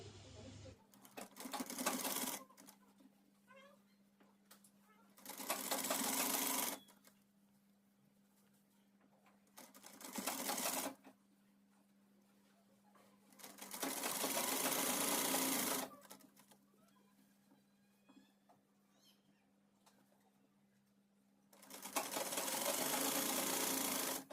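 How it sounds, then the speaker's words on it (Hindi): Sewing machine stitching sleeves on an umbrella frock with layered frills, running in several loud bursts of about two to three seconds, separated by quieter pauses with a steady low hum. "हमें यहाँ पे आधे इंच पे सिलाई लगानी है।"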